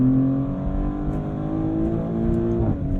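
A Maserati GranTurismo Trofeo engine hums and revs from inside the cabin, a smooth steady drone that rises slightly then eases off, loud and continuous with no talk over it.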